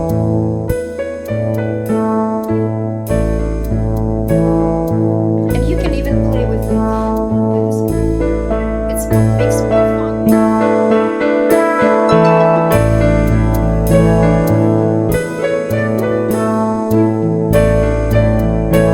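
Full orchestrated backing arrangement of a Piano Adventures beginner piece, a steady flowing ensemble with sustained bass notes and layered harmonic chords, loud and continuous with no talking.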